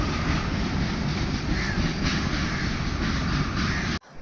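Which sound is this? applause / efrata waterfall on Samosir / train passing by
train passing by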